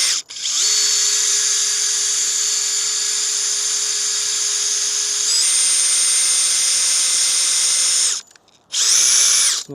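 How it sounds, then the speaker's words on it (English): A power drill bores pilot holes in wood for a water-container stand, its loud high whine shifting pitch partway through, then cutting out and returning in a short final burst, with no voices. "Guess I can already do the pre-drilled holes here."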